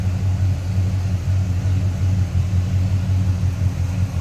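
A 1964 Pontiac LeMans V8 idles smoothly and quietly nearby, a steady low rumble with an even pulsing beat and no voices.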